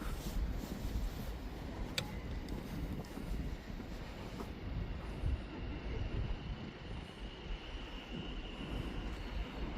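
Outdoor train station ambience outside a road-blocking protest at an Israeli weapons factory: a low, steady rail rumble mixed with gusty wind buffeting the microphone, with one brief sharp click early on.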